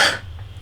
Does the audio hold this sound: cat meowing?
no